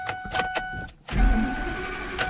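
A V10 truck engine idles while warming up on a cold morning, a steady low rumble with some mechanical clicks, preceded by a brief quieter stretch of intermittent tapping.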